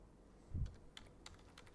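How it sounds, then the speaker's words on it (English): Light typing on a computer keyboard while entering text in a word processor, with a soft thump followed by a sparse run of quiet, irregular key clicks up close. "Now, let us start typing something."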